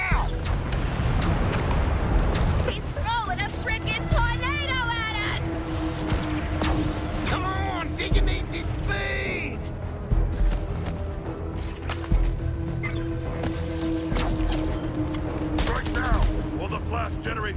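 Rapid gunfire in the Flash boss fight of Suicide Squad: Kill the Justice League, dense bursts and crashes layered over game music and effects, with a voice speaking at times.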